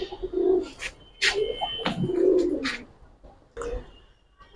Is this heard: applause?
no